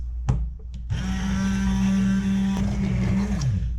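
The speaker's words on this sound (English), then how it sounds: "we're going to puree it with the stick blender" A stick blender whirs steadily as it purees simmered onions for a French sauce soubise, starting after a couple of knocks and running as a loud, continuous motor hum for several seconds, alone without talk.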